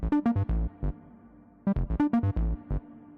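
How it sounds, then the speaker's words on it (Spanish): A synth bass line through a vintage drive effect plays a punchy, gritty riff of short repeated notes, pausing briefly before the pattern repeats, with no voices. "Echemos un vistazo, tal vez a la línea de bajo, de aquí abajo."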